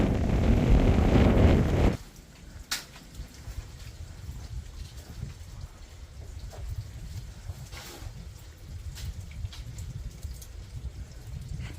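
Strong gusting wind on the Appalachian Trail near Grayson Highlands State Park, Virginia, buffets the microphone, a loud roar that suddenly drops into steadier, lower rumbling gusts with occasional sharp buffets.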